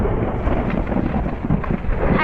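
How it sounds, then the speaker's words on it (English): Thunder from a storm scene in a performance of The Tempest, a dense, continuous low rumble that fills the short clip at steady loudness, with no voices over it. "A noise of thunder is heard."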